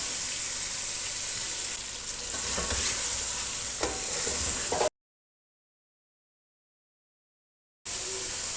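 Yogurt being stirred into browned chicken in a pan for chicken pulao, with a steady sizzle and scraping stirs for about five seconds, then a stretch of silence before the sizzling returns.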